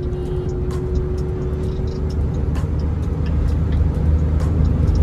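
A Mahindra XUV500 with 235,000 km on it drives straight along a road, giving a steady, close cabin rumble of engine and tyre noise with light vibration and no talk.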